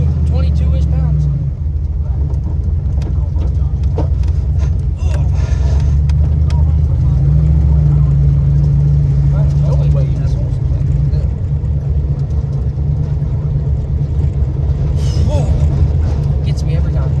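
Turbocharged 383 car engine at about 22 pounds of boost accelerating hard with wheelspin, a loud, continuous low rumble that holds steady throughout, with people talking over it.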